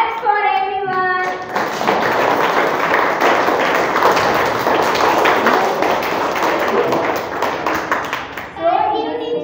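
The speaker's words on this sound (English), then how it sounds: "Claps for everyone." A class of young schoolchildren claps together in a classroom, a dense, steady burst of many small hands lasting several seconds, framed by a teacher's voice at the start and end.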